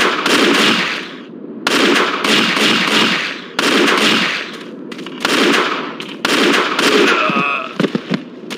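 Repeated bursts of loud close gunfire in the PC game Indiana Jones and the Infernal Machine in the Babylon level, several rapid volleys separated by short pauses, ending in a cluster of sharp shots.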